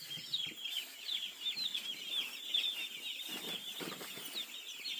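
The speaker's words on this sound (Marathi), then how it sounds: "एवढे सगळे पोल्ट्री फार्ममध्ये पिल्ले आहेत" A crowd of chickens and chicks on a large 5000-bird poultry farm chirps and clucks continuously, with high peeping and bursts of flapping, a busy, fairly faint indoor din.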